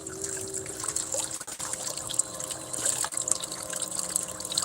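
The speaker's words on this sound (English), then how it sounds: "See where the water's coming out there?" Water pours and trickles steadily from a gold prospecting machine into a yellow bucket, a continuous splashing, dribbling flow heard close and alone.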